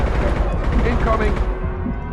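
Gunfire in the video game Mass Effect Legendary Edition, a dense run of rapid shots and impacts filling the whole stretch with busy game effects, while a voice talks over the combat.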